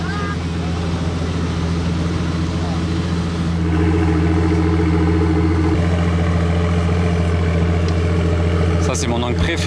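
The AMG V12 of a Pagani Utopia idles with a steady, deep rumble that holds throughout and rises slightly partway, heard nearby in the open air with faint background activity.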